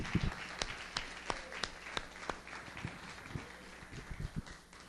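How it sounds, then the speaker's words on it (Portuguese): A church congregation applauding during a sermon, with scattered, fairly faint claps rising and falling unevenly across the space. "Por favor, aplaude todo o seu coração."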